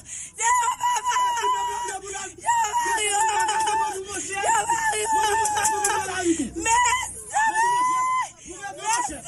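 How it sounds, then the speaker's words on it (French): Agitated crowd of people screaming and crying out at a scene where an ambulance stands by, voices wailing and shouting continuously and loudly over one another throughout. "est-ce qu'on entend des cris ça dans les oreilles"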